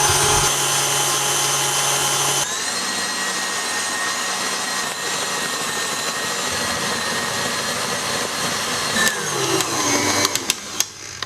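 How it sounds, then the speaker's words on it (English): Stand mixer whisking egg whites at medium speed, a loud steady motor whir with whisk rattle against the bowl, shifting slightly partway and ending in a few clanks. "turn on my stand mixer on a medium speed and I'll start whisking up my egg whites"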